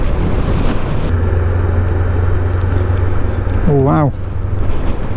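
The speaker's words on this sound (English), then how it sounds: "And the wind's back." Wind roars steadily around a rider on a Honda CB500X motorcycle along Scotland's North Coast 500 in light rain, with a low engine hum beneath and a brief spoken exclamation near the end.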